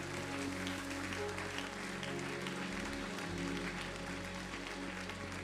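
Church congregation applauding during a worship service, a steady wash of clapping mixed with crowd noise and sustained music underneath.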